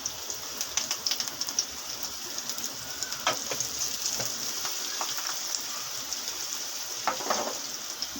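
Cumin seeds and onion hit hot ghee for a dal tadka, giving a bright crackling sizzle with scattered popping bursts, close and steady, no one speaking.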